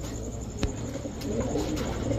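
Soft, low cooing of Rajshahi Giribaj pigeons repeats over a steady background hum, fairly close, with no talking.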